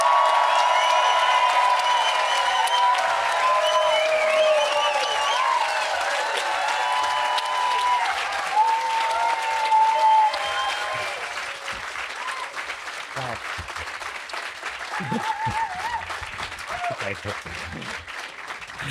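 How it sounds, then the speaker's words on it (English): Green Gathering festival crowd cheering and applauding for the Green Party leader Zack Polanski: loud whoops and shouts over dense clapping, fading to steady applause and scattered cheers, with a voice speaking near the end. "I want to hear a bloody huge green gathering cheer for the leader of the Green Party, Zack Polanski!"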